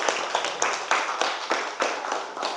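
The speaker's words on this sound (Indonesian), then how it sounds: "Tepuk tangan dulu untuk kita semua." Applause in a biology classroom, a small group clapping in uneven bursts of sharp hand claps with short pauses between, fairly close and moderately loud, with no talk over it.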